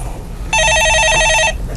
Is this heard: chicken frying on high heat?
no